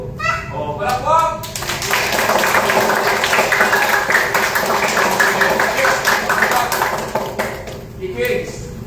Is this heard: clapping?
yes